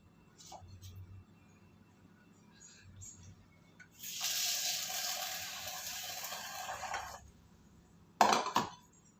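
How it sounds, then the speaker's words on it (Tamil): Mustard seeds spluttering in hot ghee for rasam rice, a broadband sizzling hiss lasting several seconds, followed by a brief sharp burst of crackling pops near the end. "கடுகு வெடிக்கட்டும்."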